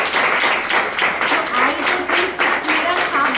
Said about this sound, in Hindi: बजोदा तालियां चाहूँगी